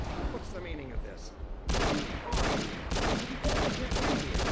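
Rapid bursts of gunfire in Half-Life 2 co-op crackle close and loud, one volley after another, with voices talking over the shooting.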